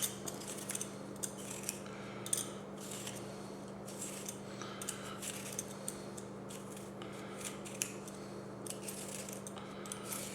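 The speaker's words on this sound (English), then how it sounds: "I've got some ginger root here and we're going to peel it" Fresh ginger root is peeled in a kitchen, making soft scraping and scratching strokes with small clicks of the tool, close and quiet over a steady low hum, with no talking.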